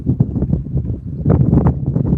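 Strong wind buffets the microphone in low, rumbling gusts that surge and fade, with a heavier blast in the second half.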